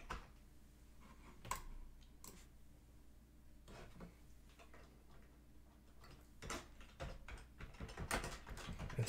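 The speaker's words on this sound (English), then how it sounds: "Enough of the typing." Typing on a computer keyboard, scattered clicks and taps spread irregularly across the stretch, fairly faint and close, without any talk.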